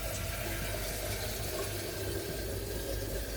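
Water runs steadily into a cooking pot for rice, a continuous near splashing fill with no talking.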